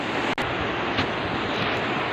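Fast-flowing snowmelt river in Himachal Pradesh rushes in a loud, steady broadband roar, close by and unbroken, with one brief dropout near the start.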